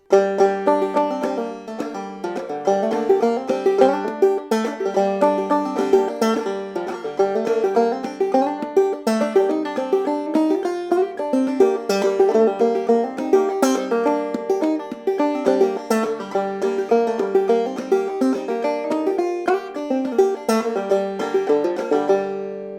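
Bright, rhythmic clawhammer banjo playing "God Rest Ye Merry Gentlemen" with pull-offs and drop thumbs, quick ringing notes and plucked accents repeating continuously, played up close with no voices.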